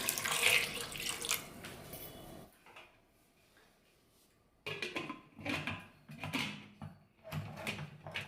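Water pours and splashes into a pot of drumstick pieces and green chillies for a couple of seconds, then stops; other kitchen sounds follow after a brief quiet.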